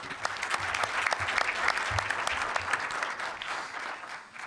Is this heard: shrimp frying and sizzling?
no